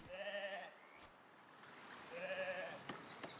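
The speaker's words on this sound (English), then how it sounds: "And these sheep definitely need to be sheared." Sheep bleating in the video game Foundation: two distinct wavering bleats, one at the start and another midway, fairly faint over quiet background with a few small clicks.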